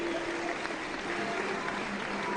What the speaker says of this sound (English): May we clap for our Royal Highness.